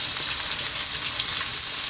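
Onion fries in a pan with garlic and ginger, a steady and close hissing sizzle that runs through the whole clip with no talking.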